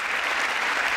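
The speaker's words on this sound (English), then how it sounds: "Everyone's now standing and clapping?" A large audience at the State of the Union address stands and claps, a dense, steady wash of applause filling the whole second with no break.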